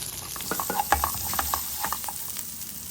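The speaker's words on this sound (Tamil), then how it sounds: "மஞ்சப்பொடி போட்டு நல்லா வதக்கிங்கோ." Chopped onions with tamarind and turmeric powder sautéing in a kadai for a spicy stuffed bitter gourd dish, giving a soft, steady sizzle with light stirring scrapes and clicks throughout.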